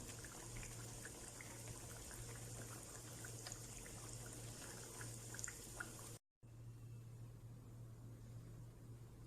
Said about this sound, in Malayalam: നല്ല ചൂടായ ഓയിൽ തന്നെ ഇട്ടിട്ട് ഫ്രൈ ചെയ്തെടുക്കുക.